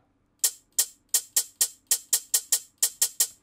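Hi-hat percussion sample played in FL Studio: a quick, steady run of about a dozen bright, short metallic ticks, close and fairly loud, alone.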